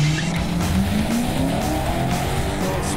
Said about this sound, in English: Little spin of the tires there.